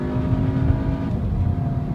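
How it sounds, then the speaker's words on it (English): A 2014 VW Jetta 1.8T accelerates hard in top gear to pass, a loud, steady engine drone with a droning tone heard from inside the cabin, holding fairly constant and without speech. "You're going to pass somebody while you're in top gear or close to it."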